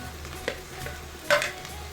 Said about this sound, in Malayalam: അതിലേക്ക് തക്കാളി ഇട്ട് കൊടുക്കാം കേട്ടോ.